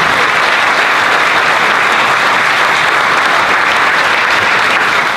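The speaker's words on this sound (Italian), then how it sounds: "volevo che gli facessero un applauso" A crowd at a political event in Pomigliano d'Arco gives the activists a loud, sustained applause, a thick, even wash of clapping with no break for the whole stretch.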